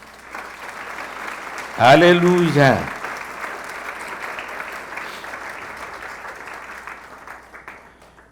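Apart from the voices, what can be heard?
church congregation applause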